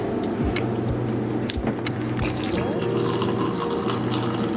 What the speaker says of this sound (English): And now we're gonna add our water.